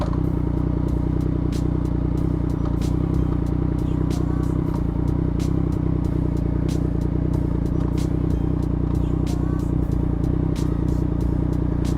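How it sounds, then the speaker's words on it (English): Yamaha MT-09 motorcycle engine idling while a quickshifter is set up, a steady low throb with rapid, regular ticking clatter running throughout, close and moderately loud with no talk. "sit on the bike in normal riding position with the engine running at idle and clutch pulled in"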